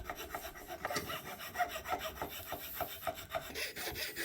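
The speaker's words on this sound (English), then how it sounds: "start shaping it with a file" A hand file shapes the wooden handle of a forged sgian dubh knife with quiet, close rasping strokes that repeat in an irregular back-and-forth rhythm.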